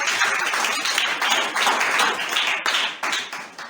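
A church congregation claps and applauds during an evangelistic service, a dense, fairly loud wash of hand claps with some individual claps popping out, continuing steadily throughout.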